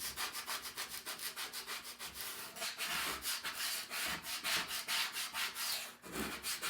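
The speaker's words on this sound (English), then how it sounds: "And just scrape up the chalk, old chalk" Close, steady back-and-forth scraping as a tool pulls old chalk paste off a reusable stencil surface, with rapid, evenly spaced strokes and no voices.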